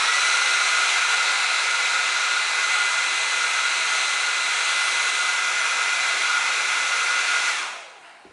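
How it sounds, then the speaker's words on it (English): A hair dryer blows a steady loud hissing roar while warming nail foil for a manicure, running close and unbroken before cutting off near the end. "Then heat the foil up with your hair dryer."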